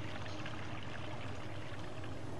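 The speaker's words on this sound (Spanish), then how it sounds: "Pero ante todo vamos a beber agua." Drinking water in the Prince of Persia: Sands of Time video game, a dense continuous rushing, pouring water sound, steady and unbroken throughout with no pauses.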